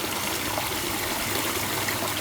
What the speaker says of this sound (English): We actually chopped away this section right here and nestled in this little pondless waterfall.